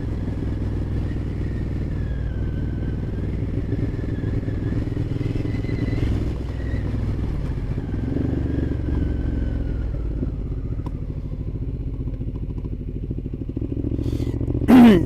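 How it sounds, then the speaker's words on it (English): A 2012 Ducati Diavel 1200 rolls slowly through a neighborhood with a loose chain, a steady low engine rumble carrying a faint continuous rattling clatter, close and even throughout. "that clatter, I don't know if you can hear it, that's the chain that's loose"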